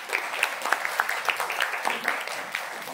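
An audience applauds at a school arts and science students' event, a dense, even burst of many hands clapping at moderate loudness for a few seconds.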